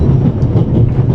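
A train rolls on rails, heard from inside a railroad car in The Raven Remastered. A loud, steady low rumble runs through with a faint, rhythmic clickety-clack and no voices.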